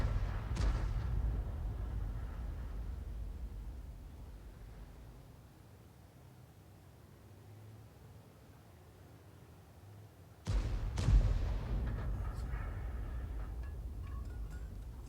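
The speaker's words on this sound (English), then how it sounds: "Rounds out straight away, and it hits the rear of the Kampfpanzer 5 this time" Two heavy tank cannon blasts boom out in a tank video game, one at the start and one near the end, with a deep rumbling engine drone between them.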